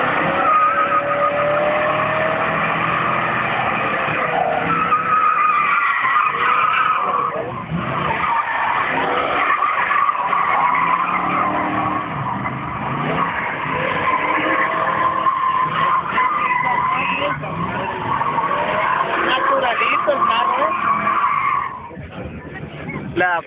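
A classic Mustang with a turbocharged 5.0 engine spinning donuts, its tires squealing and skidding almost nonstop for over twenty seconds over a roaring engine, with people talking and shouting nearby.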